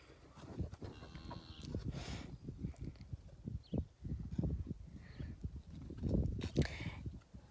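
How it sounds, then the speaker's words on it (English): Cows walk up to a water trough on a farm, with uneven hoof thuds and knocks, shuffling and occasional rattles at close range, fairly quiet overall and with no talking. "So here the cows are coming up for water."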